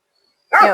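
A Great Pyrenees livestock guardian dog lets out a single loud, close bark that starts abruptly after a moment of silence and cuts off at the end.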